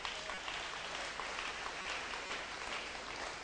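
Clapping from a seminar audience on fish production, an even continuous patter of many hands throughout, moderately distant and fairly faint.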